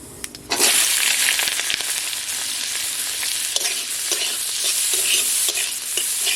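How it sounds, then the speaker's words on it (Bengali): Onion, ginger and green chili fry with cumin in hot oil, a loud, steady sizzle bursting in after a brief quiet moment and continuing with scattered stirring clatters and crackles throughout. "আর জিরে এর মধ্যেই দিয়ে দেবো আমি পেঁয়াজ আদা আর কাঁচা লঙ্কা"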